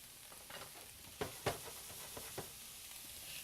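Carrots and cabbage sautéing in a pan give a soft, faint sizzle, with a few louder stirring clacks and scrapes; no voices.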